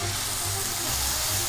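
White wine poured into a hot pan of golden-brown garlic sizzles loudly and continuously, a dense frying hiss with bubbling and steam, close and steady throughout.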